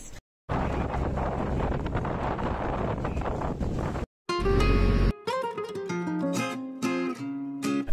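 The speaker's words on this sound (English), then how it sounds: "It's really windy here" Strong wind, gusting up to 60 mph, roars under a bridge at Palm Beach and buffets the microphone for several seconds, then cuts off as music with clear tones takes over.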